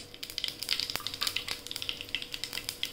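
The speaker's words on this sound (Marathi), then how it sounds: "मोहरी टाकूया तेलात" Mustard seeds dropped into hot oil for a potato dish, popping and sizzling in quick, irregular crackles over a steady frying hiss, close and fairly quiet.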